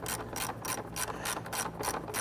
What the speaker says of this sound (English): Using a 7mm, we're going to go ahead, loosen, and remove this.